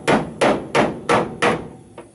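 A small hammer strikes the steel body panel of a Kombi, five sharp metallic blows at a steady rhythm followed by a softer sixth tap, close up, with no talk.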